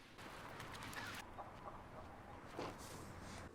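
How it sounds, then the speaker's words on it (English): Chickens cluck softly within a tense dramatic scene, faint repeated bird calls under a steady background hiss, with no talking. "I like the chicken noises."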